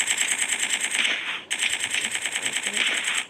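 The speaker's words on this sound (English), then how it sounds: "I'll take my sniper and I'll kill" Rapid automatic gunfire in a shooter video game, loud and close, a fast continuous burst of shots with a brief break partway through before the stream resumes.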